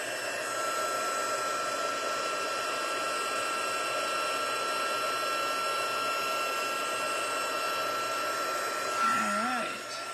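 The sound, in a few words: heat tool blowing on higher setting for embossing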